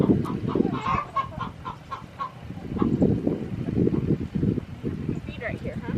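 Chickens in a run clucking and calling in a busy overlapping flock, fairly close and loud, with the chatter continuing throughout.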